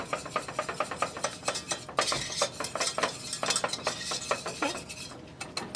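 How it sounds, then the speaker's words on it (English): A whisk stirs bechamel sauce in a pan with quick rhythmic strokes, producing a steady run of soft scraping clinks against the metal, fairly quiet and close. "And you whisk it again."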